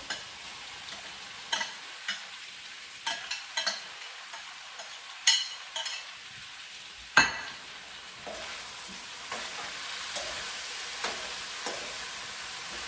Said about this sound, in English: now I'm going to drop in the celery